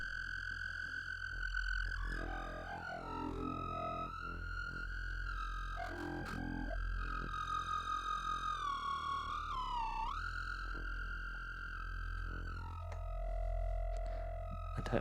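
A Ferry Island Four Seas modular synthesizer module plays sustained, steady tones with shifting bank sounds, gliding pitch and warbling modulated textures, bending downward briefly before settling into a lower held note.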